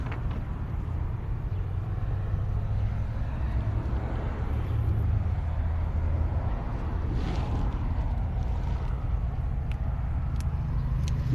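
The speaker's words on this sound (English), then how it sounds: "You can still hear the traffic," Distant road traffic forms a steady low rumble and hiss outdoors, continuous and moderately faint, with no speech.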